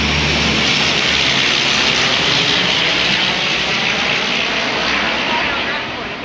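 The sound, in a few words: airplane flying overhead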